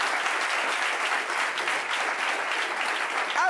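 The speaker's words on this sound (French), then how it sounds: "On peut l'applaudir très fort." A studio audience applauds in a dense, even wash of clapping that holds steady for a few seconds, with no speech over it.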